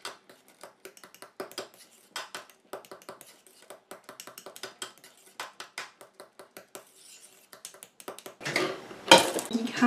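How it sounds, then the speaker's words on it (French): Lotion after-sun being stirred in a container, close and quiet, a steady run of light clinks and taps from the utensil with a brief louder rustle near the end. "Je mélange."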